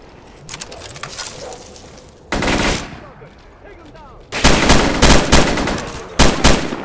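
Gunfire in the S.T.A.L.K.E.R. Clear Sky video game rings out in loud, rapid bursts, first scattered shots and then a dense, sustained volley near the end, with faint game sounds between.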